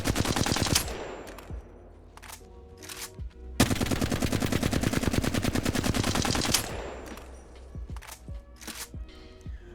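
A full-auto gun in Apex Legends fires a few short bursts, then holds one long sustained rattling stream of rapid shots for about three seconds, then fires more short bursts. The gunfire is close and loud with no talking.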